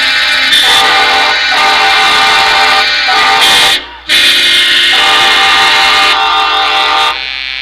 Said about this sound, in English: those train horns. They are loud in this stadium.